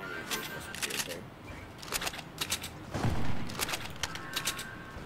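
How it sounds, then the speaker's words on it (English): SMG fire in Fortnite, heard as rapid bursts of gunfire repeating through the clip alongside other game sounds, with a deeper thump in the middle. "so I'm gonna use the SMG right there"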